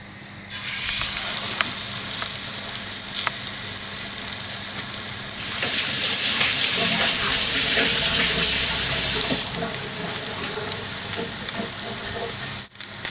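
A spirulina patty sizzles and fries steadily in a hot pan, a continuous crackling hiss that swells louder midway and holds near and close with no talking.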